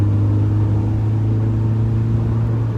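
A 1993 Mazda MX5 engine hums steadily under load while driving on a road, a constant low droning rumble with faint whirring, loud and close, with no talking.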